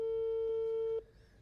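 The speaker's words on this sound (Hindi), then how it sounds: "आपके पास 3 और बेल बजने के बाद अगर आपने फ़ोन नहीं उठाया है" A telephone ringback tone on an outgoing call: a single steady electronic tone held for about a second, then cut off, leaving faint room noise.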